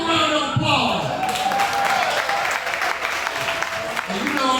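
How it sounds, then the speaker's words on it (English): An audience at a retirement celebration in Alton, Illinois bursts into applause, a loud sustained wash of clapping that carries on under a voice speaking over it. "Give a round of applause."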